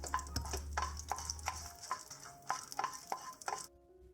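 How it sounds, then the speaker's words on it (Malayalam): Dried red chillies fry in coconut oil in a pan, heard as a soft sizzle under rhythmic stirring scrapes and light taps against the pan that stop abruptly near the end. "സെയിം വെളിച്ചെണ്ണയിലേക്ക് തന്നെ 2 വറ്റൽമുളക് ഫ്രൈ ചെയ്തെടുക്കാം"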